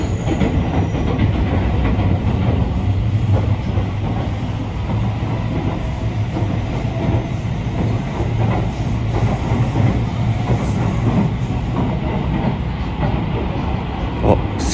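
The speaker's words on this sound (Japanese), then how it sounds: "今から快速マリンライナーに乗りたいと思います。" Inside a JR Rapid Marine Liner train travelling from Sakaide toward Okayama, a loud steady rumble of wheels on rails with rhythmic clickety-clack and a faint high whine, continuous with no talking.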